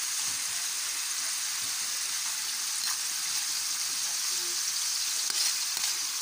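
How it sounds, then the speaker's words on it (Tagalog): Coconut milk from a single coconut fries and sizzles steadily in a pan as it cooks down into latik, a continuous bright crackle with occasional stirring scrapes and no talk. "gumagawa ng langis. O, naglalatik."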